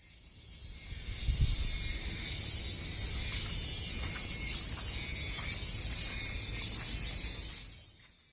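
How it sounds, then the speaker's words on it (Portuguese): Cicadas drone through a Japanese summer in a continuous high, hissing buzz that fades in, holds steady and then fades out, with no voices. "Esse canto das cigarras é tão comum nos meses quentes aqui no Japão"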